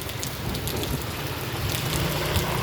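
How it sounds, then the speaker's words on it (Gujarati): Steady rain pouring in Jamnagar city, a dense even wash of drops hitting surfaces, loud and close with no pauses throughout. "વરસાદ શાંતિથી પડે છે જામનગર શહેરમાં"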